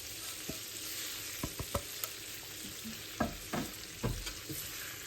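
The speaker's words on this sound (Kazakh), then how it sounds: "Бұл майда қуыру керек." Kataifi pastry fries in butter with a steady sizzle, broken by scattered clicks and scrapes as it is stirred in the pan, close and alone.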